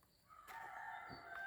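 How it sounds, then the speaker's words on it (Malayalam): A rooster crowing at a chicken farm set among rubber plantations, one drawn-out crow that is fairly faint and distant over quiet background. "ഇവിടെ കോഴി ഫാമുണ്ട്"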